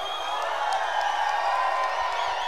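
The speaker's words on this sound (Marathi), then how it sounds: "शिट्ट्या, टाळ्या झाला पाहिजे जोरदार." A large outdoor crowd at the women's final of a Dahi Handi premier league festival lets loose with shrill whistling and clapping, a dense and loud wash of noise that holds steady throughout.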